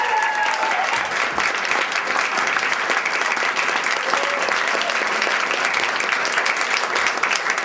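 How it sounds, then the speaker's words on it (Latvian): Sustained applause from a large audience at a Riga Cathedral choir school graduation evening, dense steady clapping filling the room without pause. "aplausus, lūdzu"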